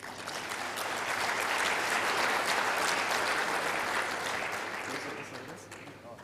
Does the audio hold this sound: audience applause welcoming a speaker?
yes